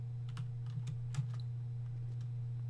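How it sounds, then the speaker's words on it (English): A loud computer keyboard clacks with a few scattered keystrokes, sharp close clicks over a constant low electrical hum while gaming. "my keyboard is loud as"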